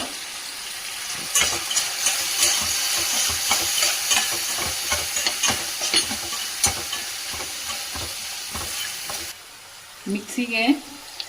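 Drumstick (moringa pods) frying in a pan with ground chili powder, sesame and peanut masala added, giving a steady close sizzle with repeated scraping and stirring clatter that gets quieter near the end.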